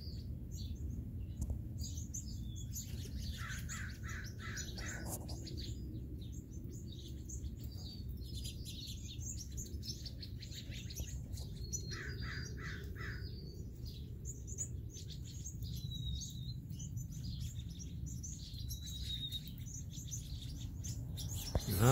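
Birds at a bird sanctuary chirp and tweet in repeated short bursts over a steady low outdoor rumble, fairly faint and spread around, with no talk.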